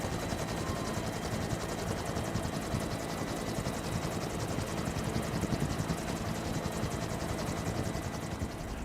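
A Vietnam War era military helicopter runs steadily, with a continuous rapid rotor chop and a broadband engine roar that stays level throughout and sounds fairly distant.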